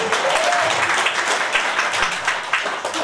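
Audience applause at a business presentation, a steady, dense wash of many hands clapping that holds evenly loud for about three seconds without any voices.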